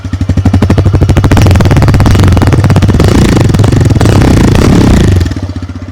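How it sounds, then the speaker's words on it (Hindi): A 2022 TVS Raider 125 motorcycle idles and revs up close, its throaty exhaust thumping in a fast, even beat that swells and then settles back down near the end. "अब आपको एक बार एग्जॉस्ट नोट और सुना देता हूँ इस बाइक का"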